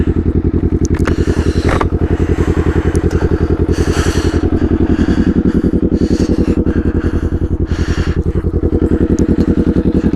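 A very loud 400cc motorcycle engine idles and revs nearby, its rapid, throbbing exhaust pulse continuous and harsh throughout, with surges in revs and some clattering.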